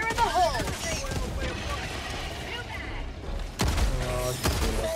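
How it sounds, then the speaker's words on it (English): Orbital strike explosions in Helldivers 2 arrive as a volley of heavy booms, with a dense burst early and another loud impact near the end, mixed with game noise and player voices. "Calling in orbital strike."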